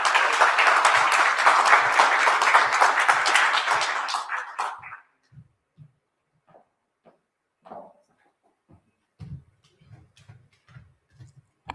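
Applause from a business conference audience in Namibia, a dense, loud burst of clapping lasting several seconds that then stops abruptly, leaving only scattered knocks and faint room sounds.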